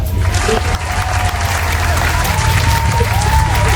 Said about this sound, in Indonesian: Tepuk tangan semua teman-teman.